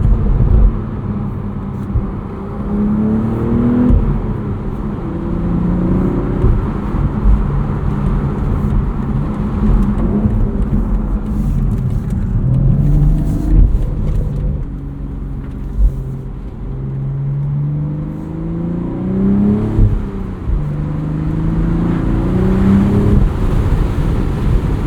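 Turbocharged engine of a 2025 BMW Z4 M40i with a six-speed manual gearbox, heard from inside as it accelerates: a steady loud rumble with engine tones that climb, drop at shifts and climb again over the whole stretch, without talk.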